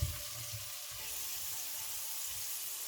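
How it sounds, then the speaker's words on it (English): Garlic frying in a pan alongside onions while ackee and saltfish is being cooked, a quiet, steady crackling sizzle with a slight soft clatter near the start. "I can see my garlic browning a bit there and I don't want it to burn."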